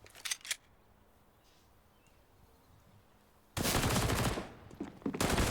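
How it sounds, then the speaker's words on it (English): Gunfire in Counter-Strike: Global Offensive during a professional esports match on the Inferno map, a short burst of rapid shots, then a lull and a sustained loud volley of automatic fire. "we're off into the slew of bullets"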